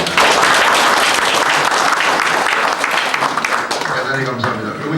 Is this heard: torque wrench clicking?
no